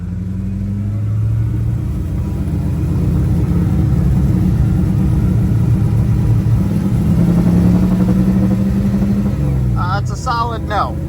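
Mopar V8 swapped into a Volvo 240, rumbling steadily from inside the car on a test drive with low engine drone and rising revs; a voice speaks briefly near the end.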